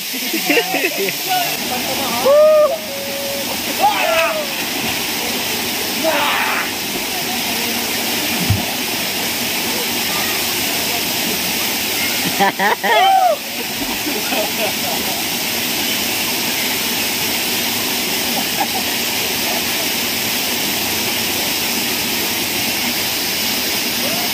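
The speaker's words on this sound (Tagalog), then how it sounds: "Parang nakarating na tayo sa Kaparkan Falls." Steady broadband rush of the Kaparkan Falls waterfall, a constant close roar of falling water that fills the whole clip, with people talking over it at several points.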